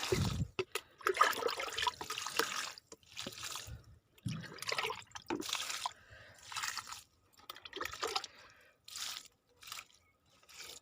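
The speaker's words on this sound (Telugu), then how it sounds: "ఓకే, ఇప్పుడు నీళ్ళు ఇచ్చేస్తున్నా" Water poured onto a tomato plant in a home garden comes in several separate splashing, trickling bursts with short pauses between them.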